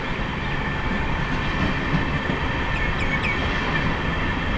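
Palnadu SF Express, an LHB-coach train on its Guntur to Secunderabad run, rolls steadily past Nallapadu station with a continuous rumble and faint wheel squeals, heard from on board with no talk.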